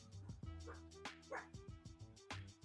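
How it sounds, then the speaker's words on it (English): Dog barking repeatedly in short yips and bow-wows close by, with a quieter voice murmuring in the background during a live football reaction. "What is the dog barking about?"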